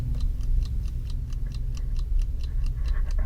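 A clock ticks steadily at an even, regular pace, each crisp tick close and clear against a low background hum, with nothing else heard.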